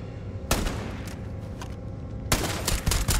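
Starfield combat gunfire: two loud, close bursts of rapid shots, the first brief and the second longer and ragged, over a steady low background hum.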